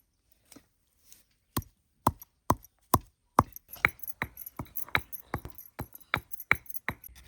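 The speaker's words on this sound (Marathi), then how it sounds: "जायफळ आणि हे विलायची हे कुटून घेतो" Nutmeg and cardamom are pounded in a mortar and pestle with sharp, close knocks that start sparse and quicken into a steady, fast rhythm of strikes, with no talking.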